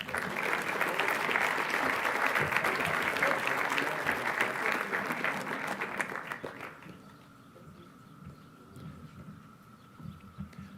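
Sustained audience applause at a Grade 8 class day ceremony, dense clapping for about seven seconds before fading into quieter room noise with scattered voices.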